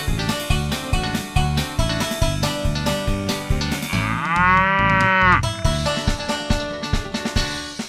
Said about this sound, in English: I've got a cow and it's big and fat.